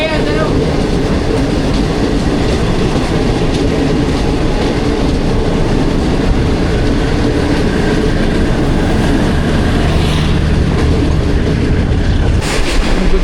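A Green Line Express train passes through Gujranwala at roughly 70–80 km/h, its loud continuous wheel rumble and rattling carriages filling the whole stretch, heard close from on board with a brief higher squeal near the end.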